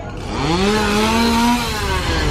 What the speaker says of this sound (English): Get the chainsaw.